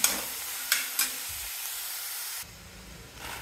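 Vegetables sautéing in a pan, a bright hissing sizzle with a few sharp stirring clicks early on, then the sound drops abruptly to a quieter low hiss near the end.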